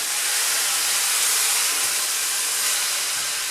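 Loud steady sizzle and hiss as about 10 cl of white wine hits a hot pan of browning mushrooms, a broad continuous steaming roar held for several seconds with no talking.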